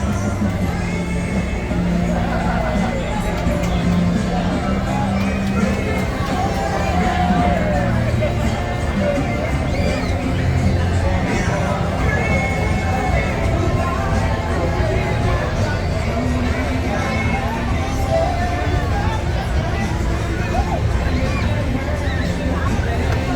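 A large crowd lines Turner Street in Beaufort, North Carolina, for the Fourth of July parade, with a continuous dense babble of voices, occasional whoops and passing vehicles mixed throughout.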